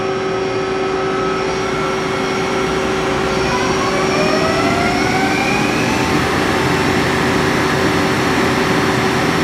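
A Mazak QT20N lathe spindle runs up in speed, giving a steady loud machine whine whose tones glide upward as it accelerates, close and continuous without any talk.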